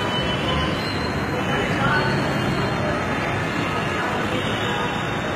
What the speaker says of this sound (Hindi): मुंका मेट्रो स्टेशन दिल्ली।